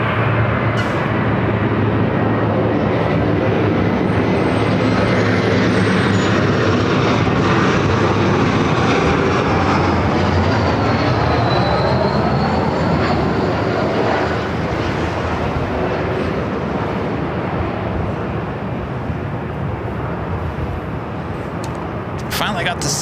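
A Sun Country airliner in special livery rolls past at Los Angeles airport, its jet engine roar loud and continuous with a slowly shifting whine, steady throughout before easing near the end.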